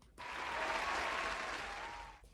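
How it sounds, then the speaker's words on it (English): Short burst of an applause sound effect, a smooth, even wash of clapping that swells in and fades out over about two seconds, fairly quiet and with no voices over it. "Let's just do applause."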